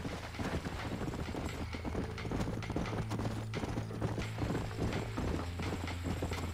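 Horse hooves clip-clopping in the Red Dead Redemption video game, a steady rapid gallop with creaking tack over dense, loud ambient game sound, no voices.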